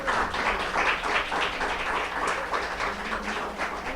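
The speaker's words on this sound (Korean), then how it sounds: "박수로 좀," Church congregation applauding during a Sunday service, a dense, steady patter of many hands clapping together that carries on evenly for several seconds, without speech.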